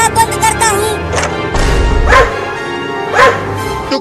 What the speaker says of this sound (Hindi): तो भौंकना बंद करो।